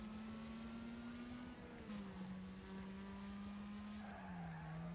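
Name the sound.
car slamming into a wall in Wreckfest video game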